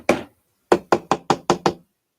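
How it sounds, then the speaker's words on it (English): Six sharp knocks on a wooden door, one isolated rap followed by a brief pause and then a quick, evenly spaced run of five, close and clear with no talking. "I knew I was going to have a knock on the door."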